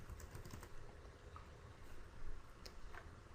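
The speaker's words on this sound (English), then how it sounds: "I would type the keyword in, and then I would type in something like Wikipedia" Quiet typing on a computer keyboard, a steady patter of soft key clicks close by with no talking.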